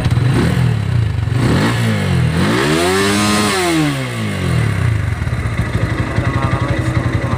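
Motorstar Z200S motorcycle engine revving hard, pitch sweeping up to high RPM and falling back, then settling into a loud, rough, fast idle close by.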